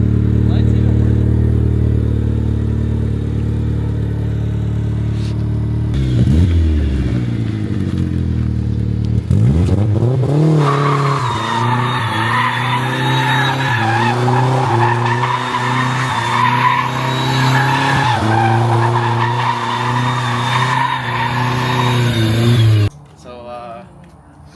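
A turbocharged 1992 Mazda Miata revs and pulls away, its engine climbing through sustained tire squeals and skidding, loud and close, with speech in the background and a drop to near silence at the end.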